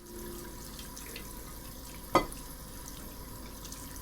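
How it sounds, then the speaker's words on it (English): Dishes are dunked in water in the horror game Fears to Fathom: Woodbury Getaway, a low running wash with one sharp splash or clunk midway, close and otherwise steady. "That is a weird way to wash dishes."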